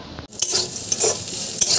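Bitter gourd slices fry in a pan on a home stove. A steady close sizzle runs throughout, with a few sharp clinks of utensil against pan.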